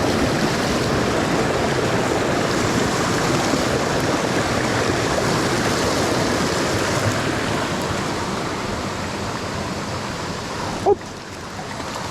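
Rushing mountain river and waterfall where trout are fished, a steady dense roar of white water close by with no letup, a brief knock near the end.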